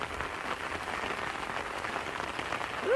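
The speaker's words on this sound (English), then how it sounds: "you can really see the effectiveness of your swales is while it's raining" Steady rain patters over a garden, a dense even hiss of drops at moderate level with no voices.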